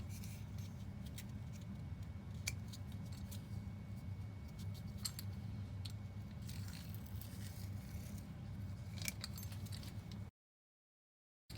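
Knife slicing through rolled dough for Moroccan blighates, a honeyed chebakiya-type sweet, making soft repeated scraping cuts against a low steady background hum, faint and close, with no talking, ending in a short silence.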